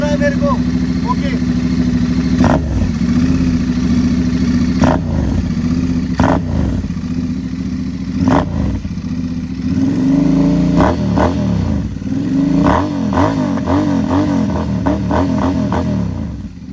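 A Royal Enfield Interceptor 650 twin, converted to a scrambler and fitted with an aftermarket exhaust, idles loudly nearby and then blips its throttle in repeated sharp revs, with someone talking over the engine.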